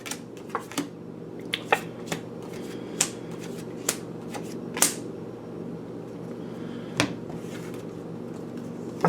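Tarot cards are handled and shuffled on a table, with soft continuous rustling broken by a series of sharp, close snaps and flicks at uneven intervals, heard alone without talk.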